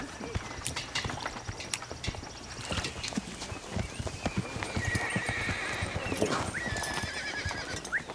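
Horses clip-clop steadily on the ground, and a horse whinnies clearly partway through. A dog barks now and then, and people talk over the outdoor scene in an Old West setting.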